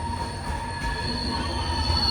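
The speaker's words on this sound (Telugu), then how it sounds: "అద్భుతమైన ట్రైన్ టన్నెల్స్" Train running through a tunnel on the Sakleshpur line, a loud continuous rumble with sustained high-pitched wheel squeal ringing over it, close and unbroken, with no talking.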